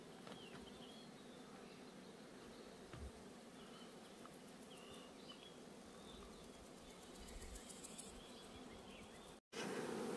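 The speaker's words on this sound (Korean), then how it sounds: "벌소리 외에는 들리는 게 없어요." A steady, faint hum of many honeybees buzzing at wildflower hives deep in the mountains fills a quiet outdoor space, continuous and even, with occasional soft bird chirps.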